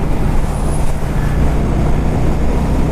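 A 2012 Honda Shadow Spirit 750 motorcycle on the road, its engine a steady low rumble blended with wind noise throughout, close and constant, with no talking.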